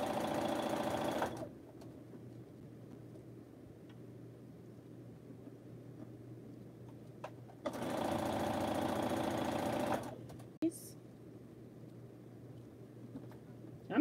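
Sewing machine stitching quilt blocks runs in two loud sustained bursts, one at the start and a longer one in the middle, with quiet pauses and a soft steady hum between.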